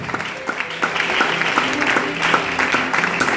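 A church congregation applauds loudly and steadily, dense clapping from many hands filling the room without a break.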